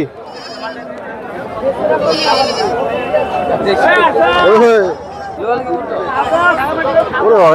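Desi goats bleat repeatedly at a busy goat market in Dhubulia, loud and close, over constant crowd chatter and nearby voices.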